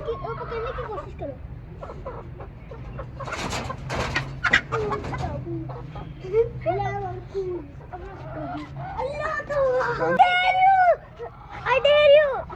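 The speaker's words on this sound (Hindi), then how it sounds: "There is a chicken." Chickens cluck and squawk nearby in short, irregular bursts, with some flapping or scuffling and a louder flurry near the end, while people talk over them.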